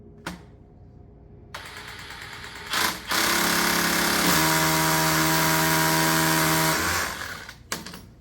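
A power drill bores a hole for a plastic anchor, whining up to a loud steady grind for a few seconds before stopping, heard close with a little handling noise around it.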